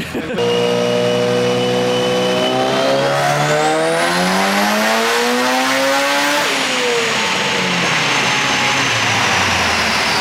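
Engine-swapped BMW revving hard on a dyno with the boost turned up, a loud sustained wail that climbs steadily in pitch for several seconds, then drops off and settles into a rough, dense roar with voices faintly underneath.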